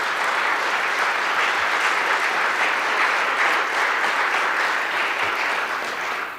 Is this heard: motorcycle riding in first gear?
no